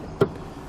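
A single short, sharp click from a Roadmaster automatic battery disconnect switching on a 2016 GMC Sierra, close and distinct above a faint steady background.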